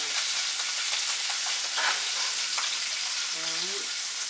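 Vietnamese banh xeo crepe batter sizzling loudly in a hot frying pan, a dense, steady frying hiss with faint scraping and clinking, with nobody speaking.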